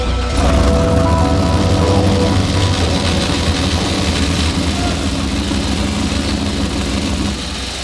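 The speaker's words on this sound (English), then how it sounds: "They got the car to fire up, but now there's a very loud, audible grinding noise." A Mustang drag car's engine runs loud and close at idle, a heavy low rumble with a harsh mechanical grinding from the transmission layered over it, fairly steady throughout.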